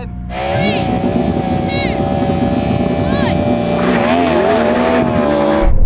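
A Ferrari SF90 launches hard in a drag race with wheel spin, its engine note rising loud and close over a steady roar, with tire squeal and brief whistling tones, and no speech.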